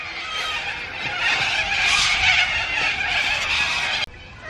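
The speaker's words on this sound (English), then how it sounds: "why the fuck's there so many birds?" A crowd of birds calls and chatters constantly outdoors beside a Toyota Hilux 4x4 being fitted with a bullbar, a loud, dense wash of overlapping chirps that swells in the middle, then drops sharply near the end.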